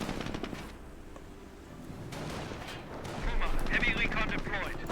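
Gunfire and artillery in the World War II strategy game Company of Heroes, a dense rumble of shots and blasts under overlapping voices, growing louder toward the end.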